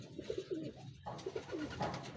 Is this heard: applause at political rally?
no